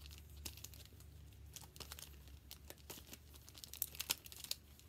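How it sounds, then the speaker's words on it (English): Soft, close crinkling and crackling of foil Pokémon booster card packs being shuffled, with irregular rustles and sharper crinkles throughout. "I'm gonna close my eyes and shuffle them up."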